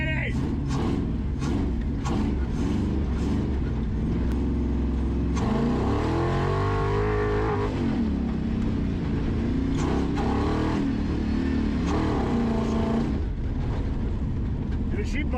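A 1956 Pontiac 3/4-ton mud truck engine rumbles and revs loudly up close, with repeated throttle blips and a long rising rev in the middle, as people talk over it.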